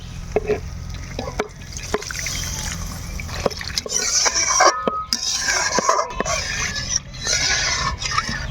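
Water pours into a pot for a Chinese-style momo soup, making a close splashing trickle with scraping kitchen clatter over a steady background.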